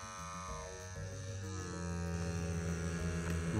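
An Equalizer Raptor F22 wire removal tool, switched on and running steadily while working on a Ford F150, gives a continuous electric hum with sustained tonal buzz that grows slightly louder toward the end.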